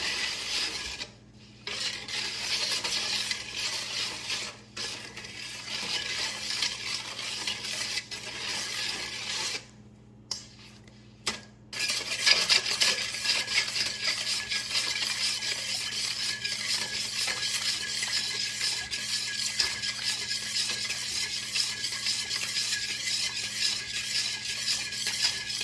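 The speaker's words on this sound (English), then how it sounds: "So it says to mix it until the butter melts." Butter and salt being stirred together in a bowl until the butter melts, a steady scraping and rasping of utensil against the dish, with a few brief pauses and no talking.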